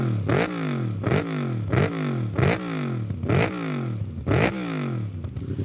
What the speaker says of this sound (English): I have an absolutely disgustingly loud MT10.